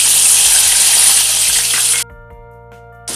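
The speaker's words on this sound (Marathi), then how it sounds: "आलं, लसूण, काजू याची पेस्ट आणि कांदा याची पेस्ट आपण आता फोडणीला पहिली देणार आहे." A ginger, garlic, cashew and onion paste drops into hot oil for chhole masala and gives a loud, steady sizzle for about two seconds. The sizzle then cuts off abruptly, leaving a low hum, and it returns briefly just before the end.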